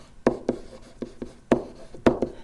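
Chalk or marker strokes writing dy/dx on a board, a quick series of sharp scratchy taps and short strokes, close and clear with no talking.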